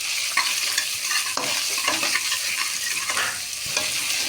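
Tomatoes, green chilies, garlic and onion are stirred in a hot pan, a steady sizzle with repeated scraping strokes of the spoon, close and moderately loud.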